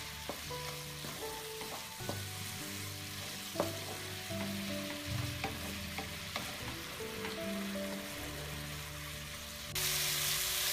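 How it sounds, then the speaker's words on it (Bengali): Spice paste with ground spices frying in a pan for a hilsa fish curry with zucchini: a continuous sizzle with occasional spatula scrapes and knocks, close, with a brief louder hiss near the end. "গুঁড়া মশলা এবং চুনির পেস্ট দিয়ে মশলাটাকে কষাতে হবে"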